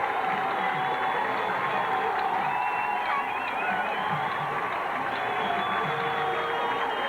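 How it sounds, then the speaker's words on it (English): A 1997 high school football crowd at Rummel vs St. Augustine roars and cheers steadily from the stands, a broad, continuous wash of noise with a commentator talking over it. "This crowd is on its feet."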